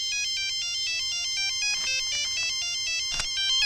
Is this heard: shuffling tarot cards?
no